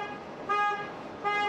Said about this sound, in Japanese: めっちゃクラクションになってる。